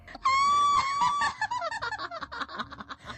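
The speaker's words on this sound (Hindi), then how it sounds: "घड़ा टूटते ही चुड़ैल दर्द से चीखने लगी।" A witch screams in pain as a horror story sound effect: one long high shriek that breaks into rapid, cackling, laugh-like cries, loud and close.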